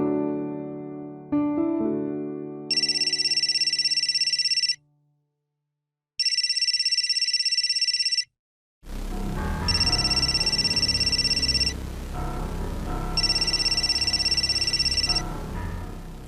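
A telephone rings in an Indian crime drama scene, four separate bursts of trilling ringtone with gaps between them. Background music plays at the start and a murmur of sound returns under the later rings.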